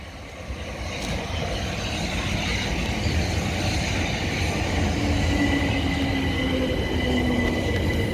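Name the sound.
non-stopping train passing through station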